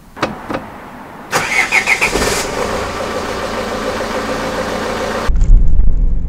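A Renault Trafic 1.9 dCi van fitted with a Maxpeedingrods turbo starts off, its diesel engine rising to a steady, loud drone that builds in intensity, with a few sharp knocks at the start and a louder surge near the end.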